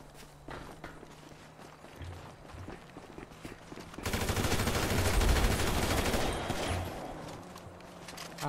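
Machine gun fire in GTA V, a sustained burst of rapid shots for a few seconds after quieter footsteps and scattered noises, loud and close.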